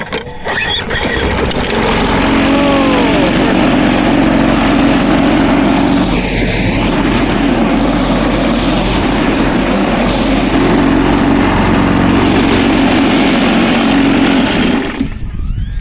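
A shaky lawn mower engine with a vibration fault fires on the first pull and runs loud and close, a steady buzzing, rattling drone that holds for about fifteen seconds before cutting off.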